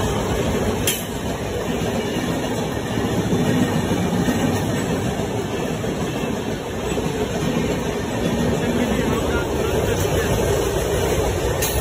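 The Gunupur Rajya Rani Express pulls into platform 2 at Brahmapur railway station with a loud, steady rumble and rolling clickety-clack of wheels, heard up close, while a voice talks over it.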